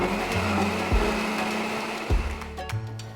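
A blender grinds condensed milk, vanilla and eggs for flan, giving a loud steady motor whir close by with slight pitch shifts as the mixture churns.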